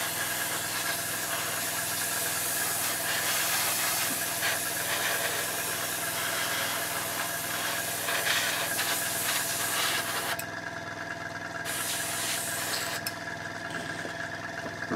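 An airbrush compressor runs with a steady hum while air hisses continuously during weathering of a Trumpeter M1133 Stryker MEV scale model, with short breaks in the spray near the end.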